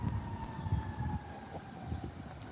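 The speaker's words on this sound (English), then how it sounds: "Not a parade, just a random ambulance going past." An ambulance siren passes by on the street, a steady wailing tone that slowly drops in pitch as it goes, over rumbling traffic noise, fairly loud with no talking.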